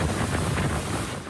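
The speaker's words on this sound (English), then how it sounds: "Tuesday's spring storm was quick but intense with powerful wind gusts." Powerful wind gusts from a quick, intense spring storm, a loud steady rush and buffeting roar battering the microphone throughout, with no talking.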